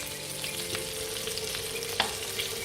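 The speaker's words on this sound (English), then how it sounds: "so in the same oil that we have fried the walnuts and the meatballs" Walnuts and meatballs frying in oil in a pan, giving a steady, close sizzle dotted with small crackles and pops throughout, with no talking.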